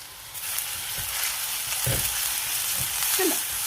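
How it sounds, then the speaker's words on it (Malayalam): Chopped ginger, green chili, garlic and onion fry in oil for a Kuttanad-style fish curry. The steady close sizzle is broken by a few soft knocks and stirring scrapes, with no voices. "ഇനി നമുക്ക് ഇതിലേക്ക് നമ്മൾ ചോപ്പ് ചെയ്ത് വെച്ചേക്കുന്ന ഇഞ്ചി, പച്ചമുളക്, വെളുത്തുള്ളി, ഉള്ളി എല്ലാവരെയും കൂടെ ഒന്ന് ഇട്ട് കൊടുക്കാം."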